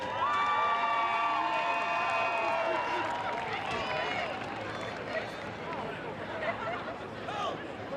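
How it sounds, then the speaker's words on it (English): A crowd at a high school football game cheers for the senior cheerleaders during senior recognition. Shouts and whoops rise over a busy, chattering hubbub, with voices strongest at the start and then settling into steady crowd noise. "Let's hear it for all the cheer seniors."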